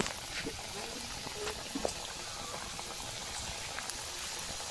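Singara dropped one by one into hot oil in a wok sizzle with a steady, dense bubbling hiss in a remote Sundarbans village kitchen, faint and continuous with a voice speaking over it.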